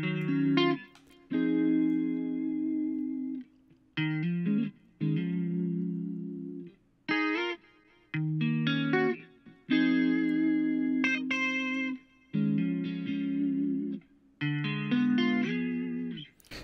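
A guitar loop from the Guitar Vibes Kontakt sample library plays alone, its distorted, chorused chords drenched in reverb and delay, each phrase cut off by short gaps and restarting in a repeating pattern.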